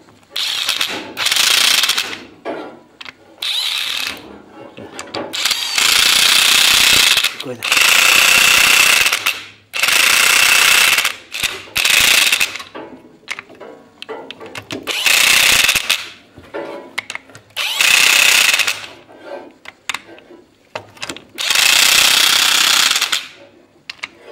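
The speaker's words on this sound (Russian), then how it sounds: "Так, ставлю коллектор на место. Закручиваю гайковертом." Pneumatic impact wrench tightening nuts on the manifold of a YaMZ-238 diesel engine during reassembly, in repeated loud rattling bursts of a few seconds each separated by brief pauses, close up.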